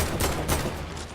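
Short burst of rapid gunfire in the battle royale video game Fortnite, loud and dense with two heavy bursts close together and no talking.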